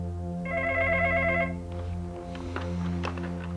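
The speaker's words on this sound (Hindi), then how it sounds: "विकी, पापा कितनी देर से फोन ट्राई कर रहा हूँ और आपने फोन उठाया नहीं।" A telephone rings with a bright, warbling electronic trill in a quick burst, then the ring stops over a steady low hum and faint background noise.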